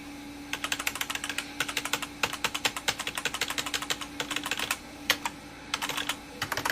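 Keys clatter on a computer keyboard hooked to an eMachines eTower 566ir desktop, irregular bursts of quick close clicks separated by short pauses, with a steady hum underneath and no speech.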